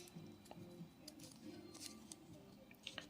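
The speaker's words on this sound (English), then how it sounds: "Now I'm going to cut the right side. So I'm going to cut this out like this." Scissors cutting a folded paper snowflake, faint close snips and paper rustles in a quiet room.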